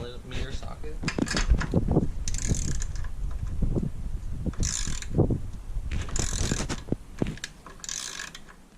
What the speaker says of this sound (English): Now we're gonna remove the battery hold down nut with a deep 10mm socket.